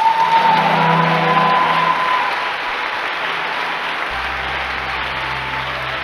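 A church congregation applauds during a revival service, a steady wash of many hands clapping that starts strong and eases slightly, with a sustained tone and low organ-like notes beneath.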